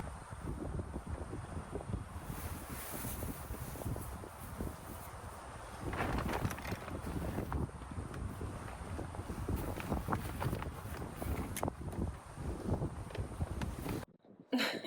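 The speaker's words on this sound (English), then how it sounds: "It's pretty windy." Wind blows at a campsite, gusting and buffeting the microphone in uneven rumbling surges with scattered small knocks and rustles, cutting off abruptly near the end.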